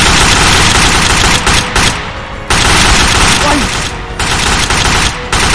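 Loud, dense gunfire from Garry's Mod DarkRP, with rapid automatic bursts layered into a near-continuous barrage and only brief gaps between volleys.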